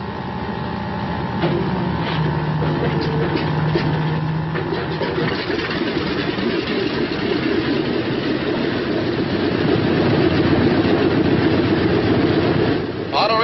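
A Martin B-26 Marauder engine starts with a droning starter whine and then catches into a loud, steady, rumbling roar that builds toward the end.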